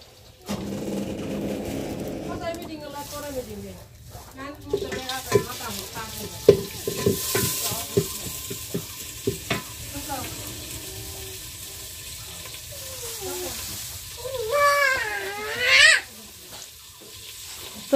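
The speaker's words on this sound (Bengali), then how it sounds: "তো এটা কাঁঠাল এখন তেলানি দিয়ে নেওয়া হবে। এই যে সয়াবিন তেল দিয়ে নেওয়া হলো।" Raw jackfruit pieces frying and being stirred in soybean oil over a clay stove fired with mustard husks, a close, loud sizzle with scraping stirs and brief splashes.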